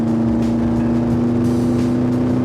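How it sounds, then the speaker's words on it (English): A Mazda engine in a GBS Zero sports car drones steadily at high revs on a racing circuit, a loud, sustained engine note filling the whole stretch with no talk. "that little Mazda engine still doing its thing"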